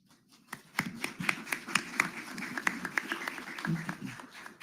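An audience claps at a city commissioner candidate forum in Weslaco: scattered, fairly quiet claps in an irregular patter that builds slightly and then continues unevenly.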